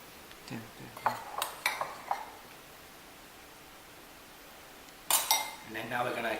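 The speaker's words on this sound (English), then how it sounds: "now we're going to give it a mix" Butter and sugar are mixed in a bowl, with scattered scraping and clinking of a utensil against the bowl in short bursts and a busier stretch of mixing at the end.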